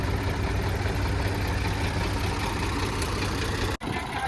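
Two tractors coupled together for a tractor pulling contest, engines running with a loud, steady low rumble and vibration throughout, briefly dipping near the end.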